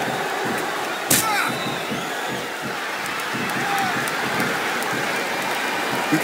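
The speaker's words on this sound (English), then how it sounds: "Listen to the crowd, JR. I think they've got something to say to these superstars." A wrestling arena crowd in the video game Smackdown vs Raw 2007 roars and cheers as a continuous wash of noise, with a sharp impact near the start and commentators talking over it.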